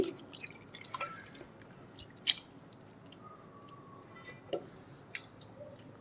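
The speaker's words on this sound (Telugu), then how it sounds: "వాటర్ వేసుకొని వీటిని బాగా పిండుకోవాలండి" Soaked amla and tomatoes being squeezed by hand in water for rasam, with faint, close, wet squishes and scattered drips at irregular moments against a quiet background.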